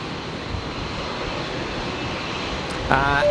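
Heavy airliner rolling for takeoff on runway 01 right at Brisbane Airport: a steady, broad engine roar fills the whole clip at moderate distance, with a brief louder burst and a thin whine near the end.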